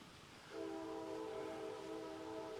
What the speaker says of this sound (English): might get a couple trains